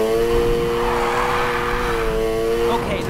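A car drifting in the racing game Need for Speed Heat, its engine droning in steady harmonic tones with a broad tire-squeal hiss across the whole stretch, loud and continuous, rising slightly near the end.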